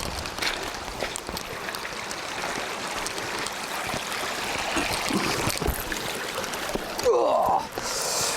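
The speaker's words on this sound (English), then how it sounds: "Wait for the splash." Water splashing in a mountain stream in the Lake District fells, a steady broadband rush of flowing water throughout with a brief nearer splash toward the end.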